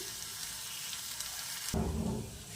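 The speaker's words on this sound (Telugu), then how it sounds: "ఇలా లో ఫ్లేమ్లోనే దీన్ని బాగా ఫ్రై చేసుకోవాలి" Sliced okra (bendakai) frying in a pan over a low flame, a steady hissing sizzle that swells louder and fuller near the end as the pieces are stirred.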